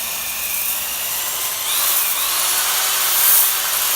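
Power drill spinning a hone inside an engine cylinder bore kept wet with brake cleaner, on a junkyard LS V8 rebuild: a steady high whine with a faint hiss that swells slightly midway, close and continuous, no talking.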